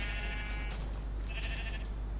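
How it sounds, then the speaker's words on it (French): Two quavering sheep bleats from Minecraft, one early and one a moment later, clear and fairly near over a low steady hum. "Un mouton vert."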